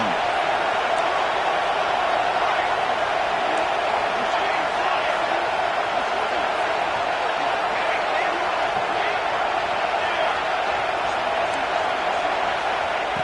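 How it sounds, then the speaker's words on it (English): Stadium crowd roar from an NCAA football video game, LSU versus Alabama, swelling steadily as the defense stands in the red zone; a dense, continuous wash of cheering throughout. "the crowd coming to life here, trying to help this defense down in the red zone"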